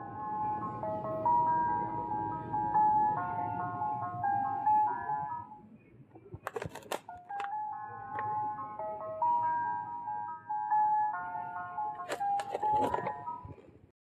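A Frozen Elsa musical snow wand toy plays a tinny electronic melody, small and chiming, with a couple of clicks and rattles midway and near the end.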